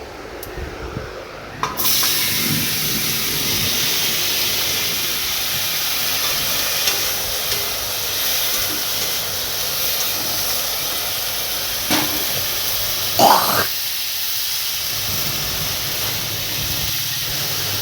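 Chopped tomato and mango hit hot oil seasoned with panch phoron, bursting into a loud, steady sizzling hiss that starts abruptly and holds close up, with a brief faint clatter midway.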